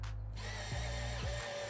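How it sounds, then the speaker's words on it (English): A power drill bores a hole into a boat, whining steadily up close with two brief dips in motor pitch as the bit bites, then resumes its high, even spin. "We're drilling a hole."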